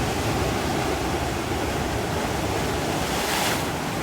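Sea waves surging and crashing against rocks at Aguada beach in Goa, a steady, loud, broadband roar of surf with gusty wind noise throughout, no talking.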